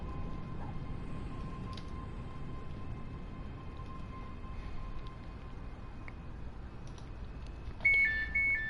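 Another train's door signal in a train simulator game on a Glasgow to Edinburgh run, heard as a faint steady tone under low cab rumble and creaks, then a louder beeping chime near the end.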